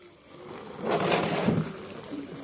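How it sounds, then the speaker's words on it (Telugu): Water poured onto potted garden plants, a soft swell of splashing and trickling that builds in the middle and then eases off, close by and quiet, with no talking. "ఇప్పుడు వాటర్ పట్టేస్తున్నాను అన్నిటికీ"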